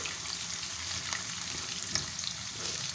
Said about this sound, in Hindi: प्याज को सॉफ्ट होने तक थोड़ा सा हम फ्राई करेंगे।